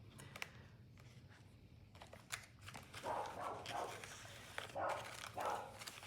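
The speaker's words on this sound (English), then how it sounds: "she's barking at the fence over here by my driveway" A neighbour's dog barks at a fence beside a driveway, a few scattered barks heard at moderate distance over steady outdoor background noise.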